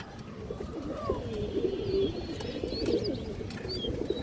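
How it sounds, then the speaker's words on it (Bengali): Soft, low cooing from a Budapest high flyer female pigeon, a few murmuring coos over steady background noise with faint bird chirps, no voices. "একটা হাই ফ্লেয়ার বুদাপেস্ট মাদি কৌতর"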